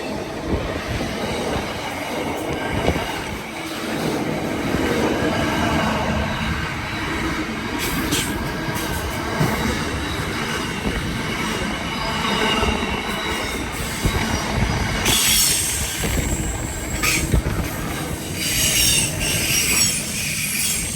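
A Sydney train passes through Hawkesbury River station, wheels rumbling and clattering over the rails with brief squeals of wheel on track, loud and close throughout.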